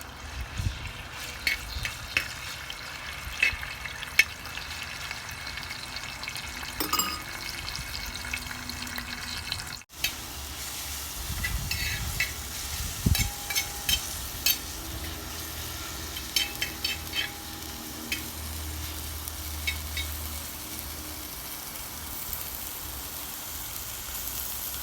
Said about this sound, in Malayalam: ഇപ്പം നമ്മൾ നെയ്യിൽ വറുത്തേക്കുന്നതുകൊണ്ട് അത് ക്രിസ്പ് ആയിക്കോളും